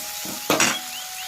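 Onion and tomato in a pan give a brief burst of sizzling as the chopped tomato drops in, a short loud crackle that fades back to a low frying hiss.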